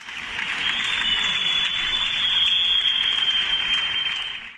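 Municipal workers clap in protest from the windows and inside a city hall building, a dense, sustained round of applause heard from a distance that swells slightly and then fades.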